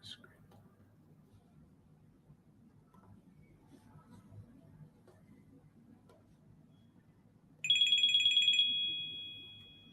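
A phone ringtone breaks in near the end, a loud, bright electronic melody with bell-like tones that starts abruptly and rings on steadily, following a stretch of quiet background murmur.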